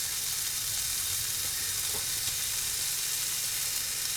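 A sandwich-size portion of sliced leftover corned beef sizzles steadily on the heat in a pan for a Reuben, giving a dense, even crackle and hiss with no talking.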